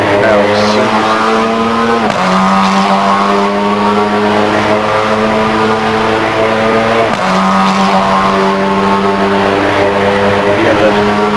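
A race car's engine in the Assetto Corsa driving game, loud and continuous, revving high, dropping sharply at two gear changes, then climbing again while the car accelerates and drifts.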